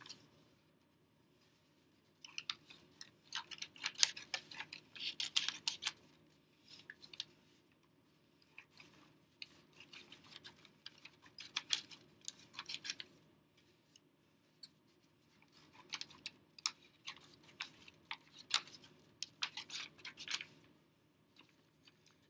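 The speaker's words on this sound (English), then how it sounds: "I'm going to cut some strips for my tree trunks" Scissors snipping paper into strips for tree-trunk shapes in a kindergarten craft, several bursts of crisp cutting with pauses between, close and clear with no talk.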